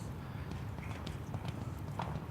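Hooves of a fresh, keen show-jumping horse clip-clop across an outdoor arena at a CSI3* 1.45m competition, a quick rhythmic gait heard at moderate distance over faint crowd ambience.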